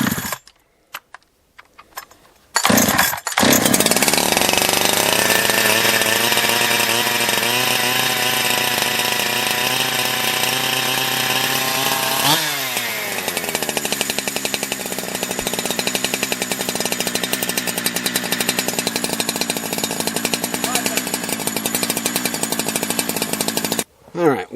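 A Holzfforma G372 clone chainsaw engine running on choke roars loud and close almost without a break, revving steadily and then dropping in pitch partway through.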